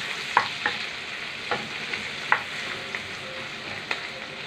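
Garlic, ginger and onion frying in a pan give a soft, continuous sizzle, punctuated by light clinks and scrapes of a spatula stirring at an irregular pace.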